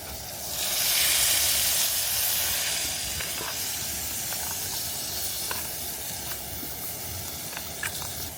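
Sausage and steak sizzle on a camp stove at a winter summit camp on Blencathra, a steady, loud hissing spray that swells early and then holds, with faint clicks and crackles over it.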